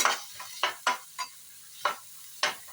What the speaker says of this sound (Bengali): এবার আবার একটু নাড়াচাড়া করে